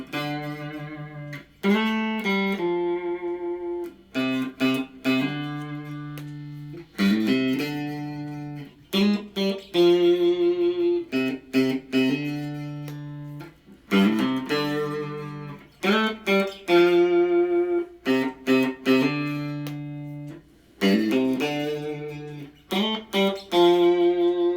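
Single notes picked one after another on a Squier Classic Vibe 50's Stratocaster electric guitar, each clean tone ringing briefly before the next, in short phrases separated by pauses.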